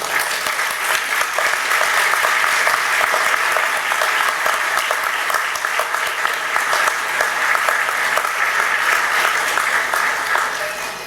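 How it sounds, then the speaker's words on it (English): A large crowd at a university graduation ceremony applauds steadily for several seconds, a dense, even wash of clapping that holds strong before tapering slightly at the end. "thank them in the usual way with a round of applause"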